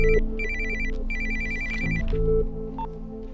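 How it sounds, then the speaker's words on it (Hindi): A telephone rings with a repeating electronic melody of bright beeping tones, clear and close, with no talking. "फोन उठाइए।"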